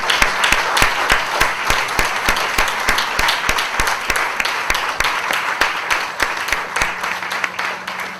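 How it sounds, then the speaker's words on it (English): Sustained round of applause from an audience at a book launch honoring Ray Holman, dense clapping with a few sharper claps standing out, loud and continuous across the whole stretch with no speech. "give Ray and Mark a round of applause"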